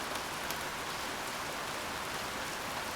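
Steady, even rain hiss falls throughout in a Pompeii city-building game, a dense wash of droplets with no pauses and no voices.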